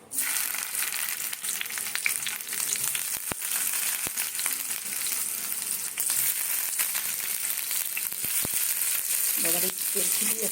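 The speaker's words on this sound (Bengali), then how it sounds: "আমি তেল দিয়ে দিয়েছি এবারে আলুটাকে ভেজে নেবো" Potatoes frying in hot oil give a dense, steady sizzle throughout, with a few sharp pops and clicks and brief stirring scrapes near the end, heard close up.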